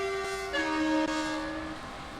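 A train in Train Sim World 3 on the Hamburg to Lübeck main line sounds a loud, steady two-tone horn that shifts pitch partway through and fades out over about two seconds, with no talking.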